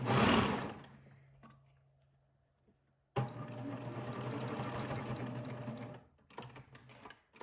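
A serger sewing machine stitches a dress seam in two steady runs of buzzing motor whir, the first brief and loud, then a longer stretch after a quiet pause, with a short burst at the end.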